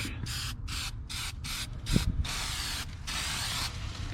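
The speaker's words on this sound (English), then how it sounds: "we are gonna spray these leaf springs, U-bolts, everything basically. We're just gonna turn it all black" Spray paint hissing onto pontoon boat leaf springs and U-bolts in a series of short bursts with brief gaps, ending in a longer continuous spray, loud and close, with a faint rattle in the middle.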